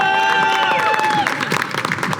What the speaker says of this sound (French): On peut s'applaudir tout le monde.